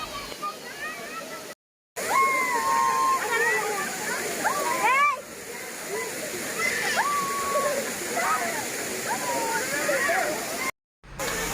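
Sirimane waterfall near Sringeri pours in a steady, close rush of falling water, with a brief break near the start and the end, while voices and high chirps rise over it.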